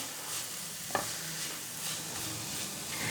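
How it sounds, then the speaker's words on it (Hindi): Spiced vegetable stuffing with cabbage and carrots for aloo tikki fries in a pan with a steady, even sizzle at low volume, interrupted once by a single sharp clink of a utensil. "इन सारे मसालों को भी अच्छे तरीके से मिक्स करके फिर इसको फ्राई करते हैं।"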